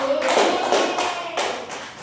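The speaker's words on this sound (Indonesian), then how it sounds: "Kalau begitu sekali lagi tepuk tangan dulu." Children in a classroom clap their hands together in a few rhythmic bursts, close and fairly loud, fading toward the end.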